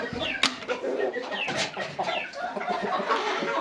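Several close chickens, including a rooster, cluck and murmur in short, busy bursts, with one sharp sound near the start, in a lively farmyard setting.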